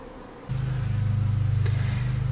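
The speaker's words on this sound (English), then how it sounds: "There's a bee taking a drink." Honey bees buzzing close by while drinking from a bowl of salted water filled with marbles: a steady low drone that starts suddenly and holds under faint outdoor ambience.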